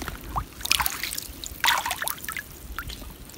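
Water trickles and splashes in a forest stream, with irregular close bursts of pouring and dribbling over a soft background flow.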